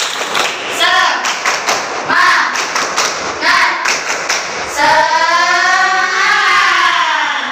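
Students in a classroom repeat the 'tepuk semangat' clap routine: several rhythmic bursts of group clapping mixed with voices, ending in a long, loud shouted group chant.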